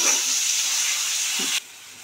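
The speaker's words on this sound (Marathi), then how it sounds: "त्याच्यामध्ये मी बारीक चिरलेला टोमॅटो घालते आणि त्याला 5 मिनिट मी परतून घेते" Loud, steady sizzling hiss from finely chopped tomatoes sautéing in a pan, continuous for over a second and a half, then cutting off abruptly.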